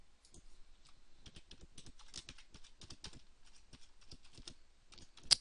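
Quiet, close typing on a computer keyboard while entering a new password, a quick run of light key clicks at an uneven rhythm with short pauses and one sharper final tap.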